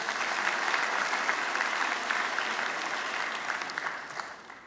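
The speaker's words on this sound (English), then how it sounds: "Why don't you give yourself a round of applause?" At a 2017 convocation, a graduating class in a hall applauds with a full, steady roar of clapping that gradually tapers off near the end.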